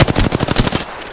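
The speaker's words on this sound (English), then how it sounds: "Getting shot at." Rapid automatic gunfire in the video game Apex Legends, a loud, close burst of evenly spaced shots lasting about a second before cutting off.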